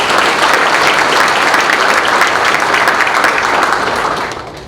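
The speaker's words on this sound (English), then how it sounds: "A round of applause for Coach." A stadium crowd at a Florida Atlantic University football event applauds steadily with dense, sustained clapping that holds loud throughout, then begins to taper off at the very end.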